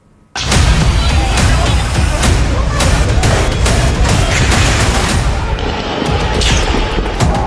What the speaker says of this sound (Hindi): ताबड़तोड़ चलती गोलियां